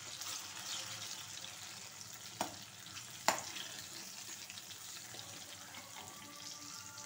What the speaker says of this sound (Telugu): ఇక్కడేమో మనకు వచ్చేసి వంకాయలు కూడా వేగిపోతున్నాయి